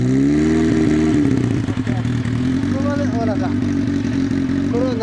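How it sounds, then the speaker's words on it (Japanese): A 1998 Yamaha V-Max 1200 V4 motorcycle with aftermarket exhaust idles loudly and unevenly, with a rough throaty rumble and a few blips of revving, while people talk nearby. "エンジン音聞かせてもらえますか？"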